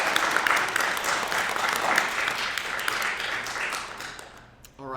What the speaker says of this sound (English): can we get a round of applause for your film title?